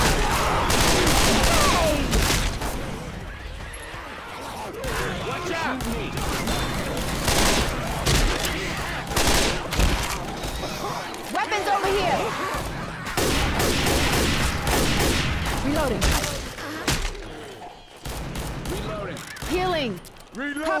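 Gunfire during a Left 4 Dead swamp campaign: sustained loud bursts of automatic weapons fire with booming impacts, shouted character voices cutting in throughout a chaotic firefight.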